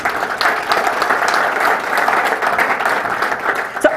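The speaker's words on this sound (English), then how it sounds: "So a round of applause for our partners." An event audience gives steady, loud applause that holds at an even level from start to finish.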